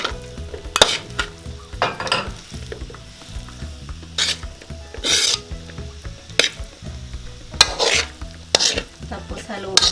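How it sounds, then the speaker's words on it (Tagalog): Rice being stir-fried with oyster sauce in a pan, a spatula scraping and tossing in irregular bursts over a continuous sizzle, several sharp metallic strokes standing out, no talking. "Tapos hahalu-haluin lang po para malagyan po lahat ng ating rice."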